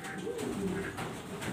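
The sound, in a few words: black pigeons cooing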